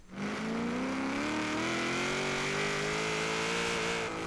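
A 1967 Chevrolet Chevelle Super Sport 396 in Forza Horizon 3 accelerates hard on a quarter-mile run. The engine drones loud and steady as its pitch climbs gradually.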